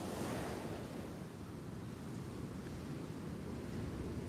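Rough sea waves wash steadily onto the beach at Peguera, Mallorca, a constant broadband surf roar mixed with wind buffeting the microphone, fairly quiet and with no voices.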